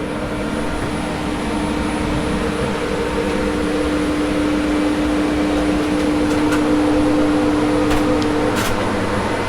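Machinery in the engine room of a 2015 Moonen 121 ft superyacht, a steady loud drone with a constant tonal hum that holds throughout, with no one talking.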